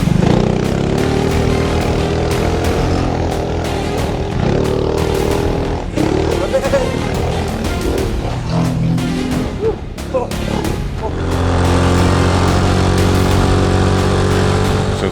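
Coleman B200R dirt bike engine runs close by, a continuous buzzing drone that rises and falls with throttle, growing louder and steadier toward the end, with no talk over it.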